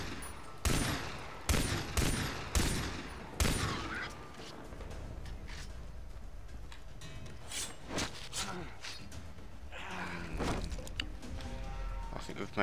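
Gunfire in Far Cry 3: several loud, sharp single shots spaced about a second apart, then quieter jungle ambience with a few distant pops, while someone talks over the action.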